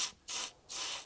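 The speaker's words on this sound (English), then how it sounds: "Get your WD-40, put it up on top." Two short hissing bursts of WD-40 aerosol sprayed onto the top of a Sovereign SV150 lawnmower under repair, each lasting a fraction of a second with a brief gap between, fairly quiet and close with no talking.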